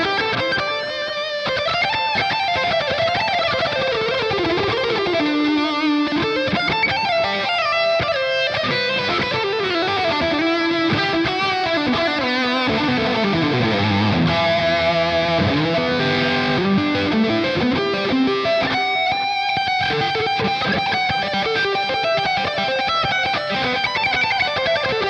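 Electric guitar played through a tube amp's red channel with Helix distortion in front, a loud, saturated sustained tone with melodic bends and runs, alone and continuous.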